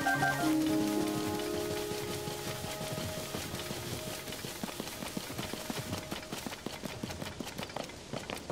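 Rain in The Legend of Zelda: Tears of the Kingdom, a soft steady patter of drops on the ground, faint and continuous, with a brief musical tone fading at the start.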